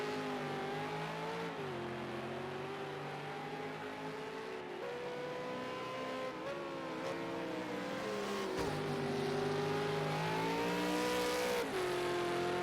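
A V8 Supercar race car exits the pits at Dubai Autodrome, its engine droning and shifting pitch as it accelerates through gear changes, steady and moderately close with no talk.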